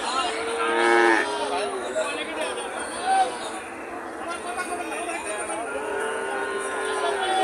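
Native calves moo loudly and repeatedly at the Joypurhat cattle market. Their calls carry over a steady background of crowd chatter and nearby talking.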